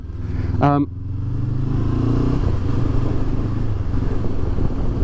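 A 2022 Honda CB500X motorcycle being ridden, its engine a steady, close drone with slight rises in revs, and a brief voice heard near the start.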